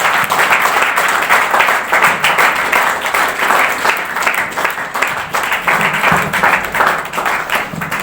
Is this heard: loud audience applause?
yes